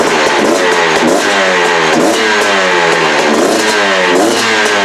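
A freshly assembled motorcycle with a newly installed exhaust pipe and silencer runs loud and close, its engine rumbling steadily with a throbbing, pulsing rhythm throughout and no voices.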